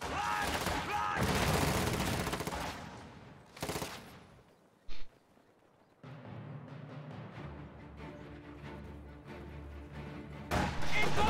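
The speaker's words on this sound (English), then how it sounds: "Contact! Small arms fire!" Small arms fire in a World War II real-time strategy video game, with crackling bursts of gunfire and machine-gun rattle coming in loud waves, broken by brief pauses, and unit voices calling out between the volleys.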